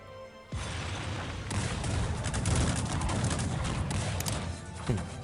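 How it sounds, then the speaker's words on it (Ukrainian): Musket volleys in the Cossacks 3 strategy game crackle as a dense, continuous fusillade of overlapping shots, loud and sustained for several seconds after a sudden start. "трохи нехай постріляють"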